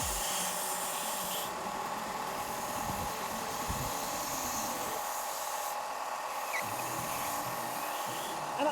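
An EVA foam cosplay horn is sanded by hand, giving a continuous close rasping rub with uneven strokes and no talking.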